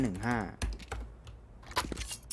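Quick keystrokes on a computer keyboard entering a console code in Counter-Strike 2, a few sharp clicks spread across the moment, with a voice speaking at the start.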